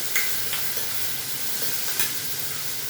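Onion and tomato frying for avalakki in a pan, with a constant loud sizzle and a few brief scrapes as a spoon stirs them, and no voices.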